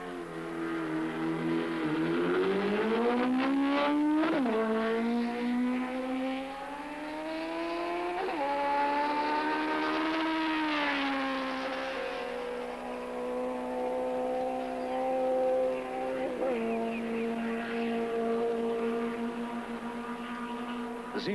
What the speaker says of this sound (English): The Z1 is not only a smooth, powerful motorcycle, it sounds like a powerful motorcycle.